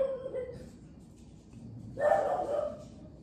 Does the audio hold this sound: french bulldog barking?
yes